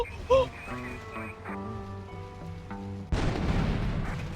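Sustained musical tones hold for a few seconds, then a sudden loud blast of rumbling noise from an explosion at a van in GTA III takes over and keeps roaring.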